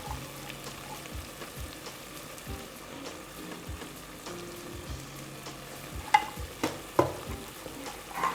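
Potatoes frying with red chilli powder while being stirred in a pan, a low steady sizzle with soft scraping strokes and a few sharper clinks of the spoon near the end.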